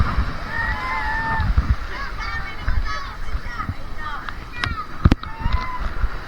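Strong sea waves at a Zambales beach splash and slosh continuously close by, with people talking over the churning water.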